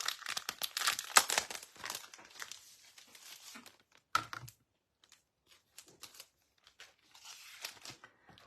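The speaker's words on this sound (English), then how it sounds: "So we'll take out the Zinnia 3D embossing folder." Plastic Zinnia 3D embossing folder being handled and pulled out, with crisp crinkling, tapping and rustling clatter in quick bursts, then sparse faint clicks after a pause.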